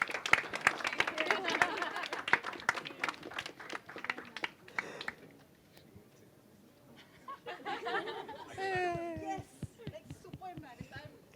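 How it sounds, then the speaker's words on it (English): Audience applause at a streaming series season launch event, a burst of many hands clapping that fades out after a few seconds, followed by quieter scattered claps and voices talking. "A huge round of applause for Shreya ji."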